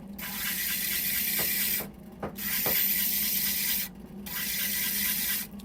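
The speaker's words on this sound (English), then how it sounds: "just do a bevel on here now" Grinding a bevel on a blue dichroic fused glass cabochon held on a dop stick, shown as a steady abrasive rasping that runs in three long passes with brief pauses between them, close and fairly loud, with no voices.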